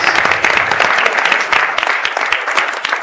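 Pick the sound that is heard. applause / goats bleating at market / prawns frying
applause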